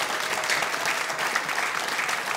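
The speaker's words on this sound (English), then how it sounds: "Give them both a huge round of applause," A comedy club audience at a live stand-up show applauds, a dense and steady wash of clapping that fills the room evenly throughout.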